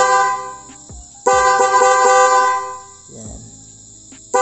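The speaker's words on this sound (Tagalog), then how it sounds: "testing muna natin ng install natin na MOCC horn" Dual MOCC horn newly installed on a Yamaha Mio Sporty motorcycle honks in two loud, close bursts, a short one near the start and a longer blast of about three seconds, with a brief third toot at the end.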